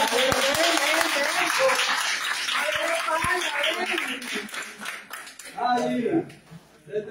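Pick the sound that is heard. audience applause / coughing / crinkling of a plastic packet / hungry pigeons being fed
audience applause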